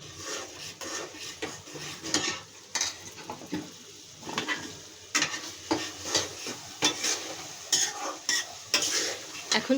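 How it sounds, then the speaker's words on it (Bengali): Spatula stirring tilapia fish curry with potatoes in a frying pan, steady sizzle under repeated scraping strokes against the pan, close and moderately loud. "এখন সুন্দর করে কষাবো।"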